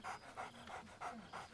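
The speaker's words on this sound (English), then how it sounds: "Scratch barks merrily in something like agreement." Scratch, the dog in the Baldur's Gate III game, panting quickly in five even, soft rhythmic breaths, close and quiet with no talk.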